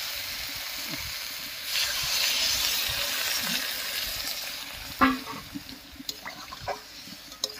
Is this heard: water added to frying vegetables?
yes